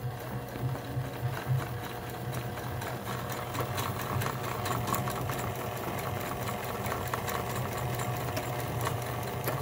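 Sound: Kenmore Sensor Sew 70 sewing machine sewing

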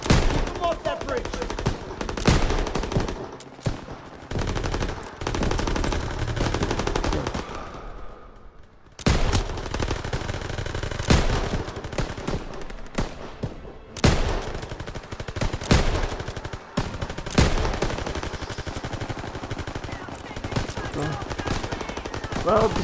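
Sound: machine gun fire in Call of Duty WWII video game

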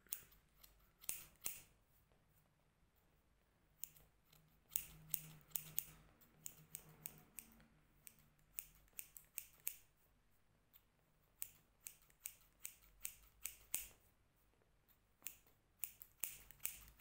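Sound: scissors and comb trimming men's hair

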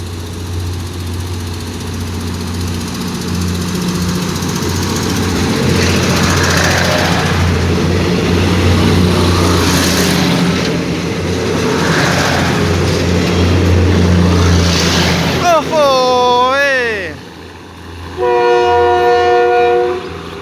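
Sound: diesel railcar revving its engine leaving Salaya railway station

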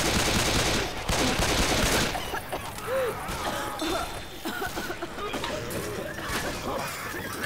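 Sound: gunfire in Left 4 Dead 2 video game

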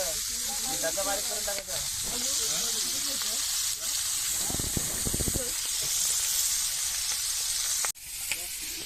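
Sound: fish meat frying in pan

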